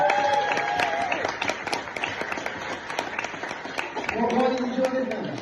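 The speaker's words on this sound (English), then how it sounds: "So a big round of applause for you," Wedding guests clap during a best man speech, a crowd of sharp, scattered handclaps mixed with a voice and other voices talking over the applause.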